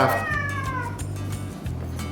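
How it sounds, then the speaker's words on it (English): A cat meows loudly and close, one drawn-out, falling cry over a steady low hum. "that's the cat."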